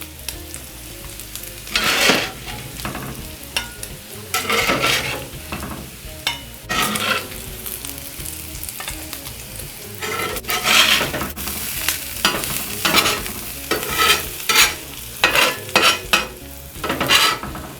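Strips of bacon frying in a hot pan for a bacon-encrusted smash burger, with a steady loud sizzle and crackle and repeated bursts of spatula scraping and stirring throughout. Nobody speaks.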